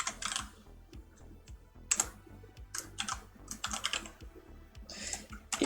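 Someone types code on a computer keyboard, a close run of crisp, uneven key clicks in quick bursts with short pauses between them.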